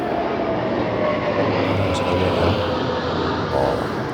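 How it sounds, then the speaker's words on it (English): Formation of planes flying close together over Trooping the Colour celebrations, a broad continuous engine roar that swells and fades overhead beneath a crowd and nearby talk. "Did you see how those planes flew so close?"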